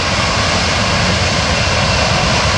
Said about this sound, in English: transitioning the engines back into forward thrust, and that'll stop the rearward motion of the aircraft